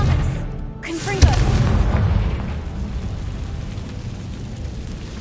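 A Confringo spell bursts in Hogwarts Legacy with a heavy booming explosion that follows a short spoken call, leaving a rumbling blast that decays slowly.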